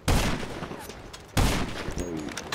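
Gunfire in GTA online play: two dense bursts of rapid shots, one at the start and another midway, loud and close with a rattling echo, while a voice talks faintly underneath.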